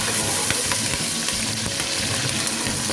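Green chillies dropped in with cloves and black peppercorns crackle and sizzle steadily in hot oil in a pot, a loud, continuous frying hiss with small pops, no voices.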